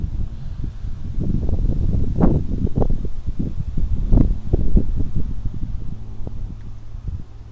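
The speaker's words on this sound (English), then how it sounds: "It's a little bit windy today." Gusty wind buffeting the microphone in a backyard, rising and falling in low rumbling bursts for the whole stretch with no talking.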